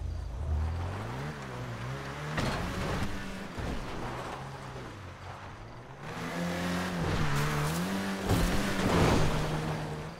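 An Elegy RH8 sports car engine in GTA V revs repeatedly, rising and falling pitch sweeps with throaty roar, close and loud, several distinct rev bursts across the stretch with short pauses between, no talking.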